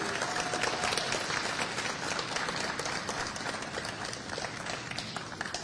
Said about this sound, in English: Let's give a round of applause to Copa Airlines.